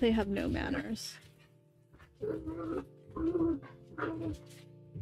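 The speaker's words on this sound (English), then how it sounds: "Please excuse my dogs." Dogs whimper and whine in short, high, repeated bursts close by, mixed with a yip, while someone talks over them.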